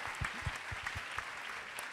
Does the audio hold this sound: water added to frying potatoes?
no